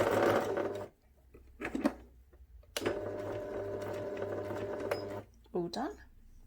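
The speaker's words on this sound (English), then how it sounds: "I'm now going to sew forwards all the way to the yellow pin which marks point F" A sewing machine runs steadily in two long bursts of forward stitching along a teddy bear seam, with a short pause and a brief spoken break between them and a quieter gap near the end.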